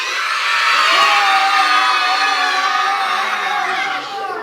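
Children shout together in a loud, sustained burst, voicing a roaring three-headed monster from a story; a dense crowd-like yell of young voices imitating the creature, steady and close, then tapering slightly at the end.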